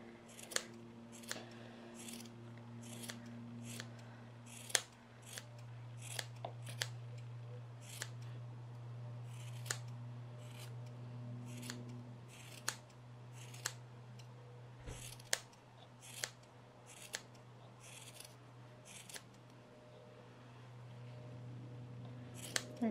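Scissors snip repeatedly at a yarn pompom, dozens of quiet, sharp cuts in an irregular rhythm, close up against a faint background hum.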